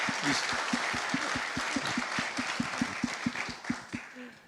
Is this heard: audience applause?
yes